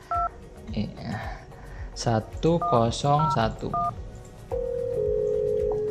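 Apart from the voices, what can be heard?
softphone dialing an extension with DTMF tones, then ringing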